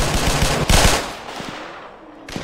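Rapid bursts of gunfire in a Roblox hood game crackle loudly, with a few sharper isolated shots afterward against a noisy background.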